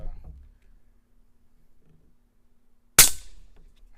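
A Taipan Veteran .25 air rifle fires a single sharp, loud crack near the end, after a mostly quiet pause with faint low rumbles.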